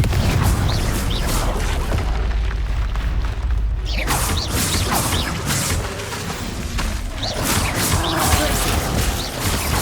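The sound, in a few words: Confringo explosive spell blast in video game Hogwarts Legacy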